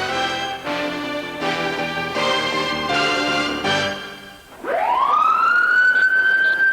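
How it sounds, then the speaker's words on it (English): A loud, steady demolition warning siren wail rises and holds after a few seconds of harmonic tones, with no talking, before the 1995 implosion of the Milner Hotel in Louisville. "A warning siren to the Milner's last blast."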